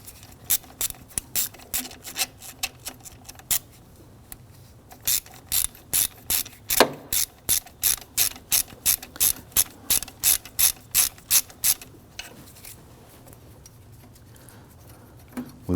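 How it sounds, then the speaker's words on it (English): A ratchet with a 13mm deep socket loosens a nut on the AC suction hose of a 2009-2017 Volvo XC60, ticking close and loud in quick repeated strokes, with a short pause partway through. "Using our 13mm socket, going to use a deep socket here, and a ratchet."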